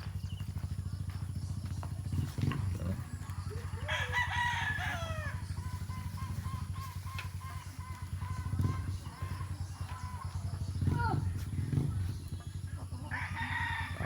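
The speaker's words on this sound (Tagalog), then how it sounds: "Tapos yung labuyong manok." Labuyo jungle fowl chickens crow and cluck in a farmyard, with a couple of drawn-out crows and scattered clucks over a steady low hum and background noise.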